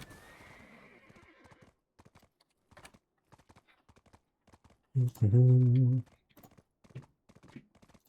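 Video-game horse gives one loud whinny in the middle, with scattered light hoof clip-clops tapping before and after it.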